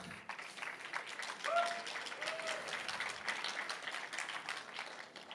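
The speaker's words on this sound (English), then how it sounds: "So a round of applause for Nostr, our runner-up." Applause from a hackathon awards audience, a fairly quiet and distant patter of clapping that holds steady throughout, with a couple of brief voices rising over it.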